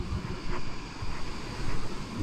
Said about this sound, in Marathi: किती छान पद्धतीने त्याच्या लाटा